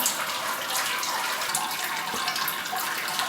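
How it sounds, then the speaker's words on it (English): Wort drains through grain during the sparge in a Grainfather brewer, a steady close hiss of trickling, splashing liquid with no voices. "that's draining through really quickly actually, as you can see"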